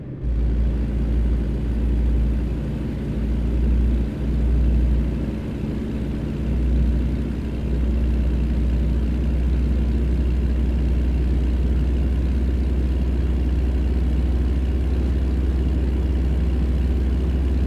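A heavy truck engine in American Truck Simulator rumbles deep and steady while driving in Texas, a continuous low drone with no speech.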